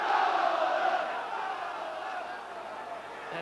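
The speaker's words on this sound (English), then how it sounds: "And that's brought Oldham a corner. And reawakened the crowd." A packed football stadium crowd at an FA Cup tie between Oldham and Everton roars as Oldham win a corner, a broad continuous wash of voices that is loudest at the start and then eases to a sustained rumble.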